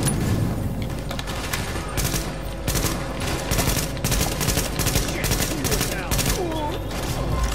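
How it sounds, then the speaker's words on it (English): Sustained assault rifle gunfire in the video game The Division, dense rapid bursts of automatic shots running continuously and loudly throughout with a busy game soundscape. "Switching over to my SMG, or assault rifle should I say, not an SMG, to deal with that person."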